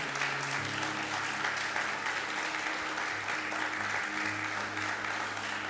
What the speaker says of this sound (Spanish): Sí, de un aplauso al Señor.